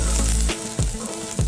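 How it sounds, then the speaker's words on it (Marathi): Grated coconut roasting in a dry pan, a dense steady sizzle broken by several scraping stirs at a regular pace, close and loud. "खोबरं असं लालसर होईपर्यंत भाजायचं."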